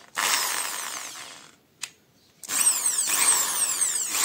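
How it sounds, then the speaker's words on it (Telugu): An ibell all-in-one electric drill machine runs in short bursts, a close high-pitched motor whine spinning up, cutting off, giving a brief blip, then starting again and running steadily. "పవర్ సప్లై పెట్టి స్విచ్ ఆన్ చేసినాం."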